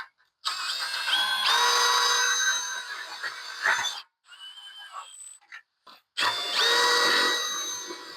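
A power drill drives screws into an aluminium gate frame, with two long whirring bursts that rise in pitch, separated by a short, quieter stuttering run and a pause. Close and loud, with no talk.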